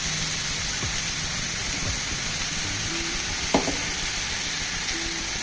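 Chopped ridge gourd fries in a pan, giving a steady, close hiss of sizzling oil with a few soft clinks of stirring, and nobody speaks.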